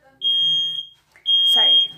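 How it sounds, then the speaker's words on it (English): A smoke-style fire alarm sounds two loud, piercing high beeps, each lasting about a second, with a person's voice briefly audible between and after them. "the fire alarm went off"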